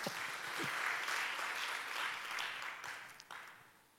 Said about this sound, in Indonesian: Ayo tepuk tangan lagi deh yang kerasa